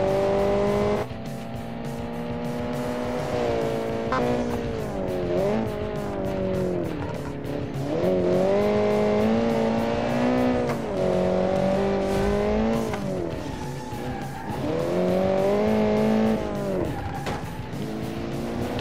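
A popular car prepared for track racing, apparently a Volkswagen Gol, accelerates in the Automation racing game, its engine revving loudly and continuously, rising and falling with gear changes, with tire squeal along the way.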